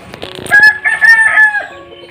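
A rooster crows nearby at a home where hens roam, giving one loud, drawn-out cock-a-doodle-doo after a few short clucks. There is no talk over it.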